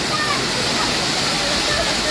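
The waterfall at Malshej Ghat pours down in a loud, continuous rushing roar that fills the whole clip, with people audible around it.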